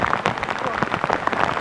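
Rain falling outdoors at a hilltop viewpoint near Bengaluru, a steady dense patter of drops filling the background while a voice talks over it.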